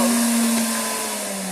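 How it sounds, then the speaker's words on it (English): A heating cooking blender's motor whirs steadily at close range with a sustained hum and a slight pitch drop, frozen fruit inside not yet blending, no voices present. "you could hear the motor working, but nothing's happening"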